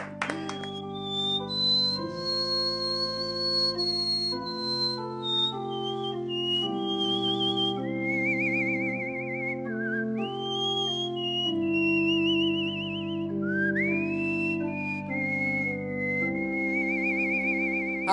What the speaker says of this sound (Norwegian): Plystrekongen, vunnet VM-sølv i plystring.